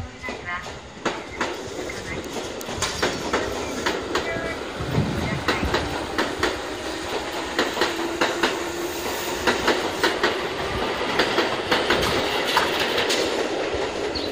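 A Tobu 8000 series express train bound for Kashiwa pulls out of Kasukabe Station, its wheels clattering in a steady, quickening rhythm over rail joints, with a faint squeal and platform announcements talking underneath.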